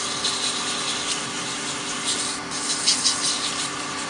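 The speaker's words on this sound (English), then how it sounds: "let me go ahead and take a second to sand it just a touch" Continuous whirring from a spinning lathe mixed with a dry, steady rubbing hiss as abrasive presses against a turning wooden coffee scoop, rising slightly in bursts.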